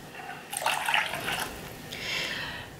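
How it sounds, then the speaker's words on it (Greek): Cold water is poured into a bread mixture for raisin bread, a soft splashing stream in two short bursts of about a second each, fairly close and fairly quiet. "Θα προσθέσω 150 γραμμάρια κρύο νερό."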